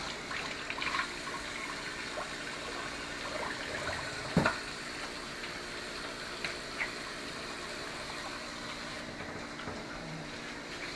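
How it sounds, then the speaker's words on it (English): A kitchen faucet runs steadily in the background, a faint, even rush of water with a few soft clinks near the middle and no talk over it. "Will you please turn on the faucet for me, David?"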